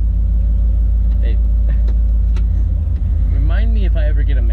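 Car engine rumbling steadily while driving, a low continuous drone with a brief dip partway through and people talking over it.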